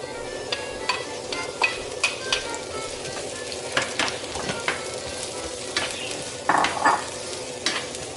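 Mushrooms sizzle and crackle in a hot frying pan, with a spatula stirring and scraping at intervals, close up and without voices.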